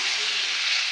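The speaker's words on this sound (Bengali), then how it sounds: "তখন এর সঙ্গে খুব ভালো করে ভাজা ভাজা করে নেব।" Marinated chicken fries in oil in a pan, a steady bright sizzle that stays even and close throughout the brief moment, with no talk.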